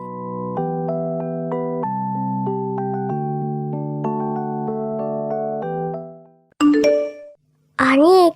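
A notification bell sound effect plays as a bright, melodic chime sequence of ringing tones lasting several seconds, followed by short bursts of a voice speaking.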